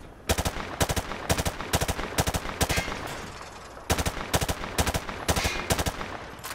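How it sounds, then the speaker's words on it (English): Automatic weapon fire at range targets in the Call of Duty Modern Warfare 2 Remastered game comes in repeated short bursts of rapid shots with brief pauses between them. "Grab that weapon off the table and fire at the targets behind you."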